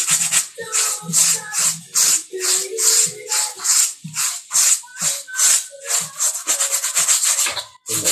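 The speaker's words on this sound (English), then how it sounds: "Rub it in the canvas. Rub it in that canvas" Brush rubbing paint into a canvas while painting clouds, a steady run of rough scrubbing strokes in quick rhythmic bursts, close and fairly loud, with no talk.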